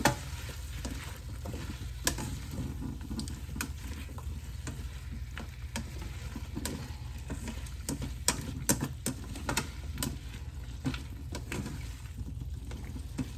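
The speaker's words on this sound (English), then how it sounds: "I'm going to let it fry up just a little more" Garlic frying in butter in a pan while being stirred, a steady close sizzle with frequent light ticks and scrapes of the utensil against the pan, constant and even, with no talking.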